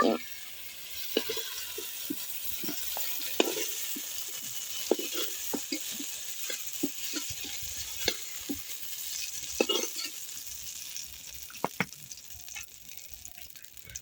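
Brinjal (eggplant) slices fry in mustard oil in a wok, giving a steady crackling sizzle with frequent sharp clicks and scrapes of a utensil against the metal, fairly close, with no talk over it.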